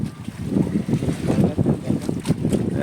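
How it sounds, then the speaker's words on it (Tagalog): Strong wind buffets the microphone with a constant low roar and gusty surges, with water sloshing faintly in the background, aboard a small boat. "Sige, lakas ng hangin oh."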